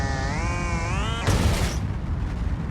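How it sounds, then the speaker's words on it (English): In the BeamNG driving game, a car's engine revs with a rising whine at Autobahn speed, then bursts in a sudden loud bang and hiss as it blows up, followed by a rougher fading rumble. "let's blow up the engine"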